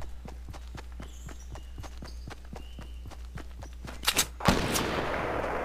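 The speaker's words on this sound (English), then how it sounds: "Oh, I just heard somebody shoot something." Gunfire in the Fortnite video game: two or three sharp, loud shots burst out near the end, after a steady patter of running footsteps.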